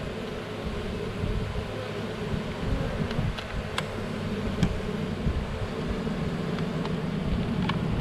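A steady, dense buzzing hum of many honey bees fanning at a swarm trap fills the air continuously, close by, with no talking.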